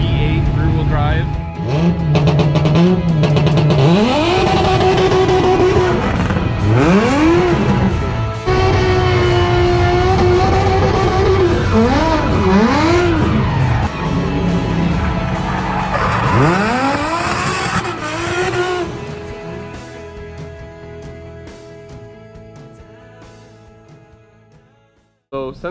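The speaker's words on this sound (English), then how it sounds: "The Audi S4 V8 rear-wheel drive." A rear-wheel-drive Audi S4 drift car with a V8 engine revs hard while its tires squeal in long sweeping slides, loud and continuous, with a voice talking over it before the sound fades out.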